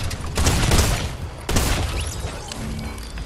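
Rapid bursts of video game gunfire crackle in two loud volleys, the second starting abruptly halfway through, with a dense booming low end and a sustained rattling tail.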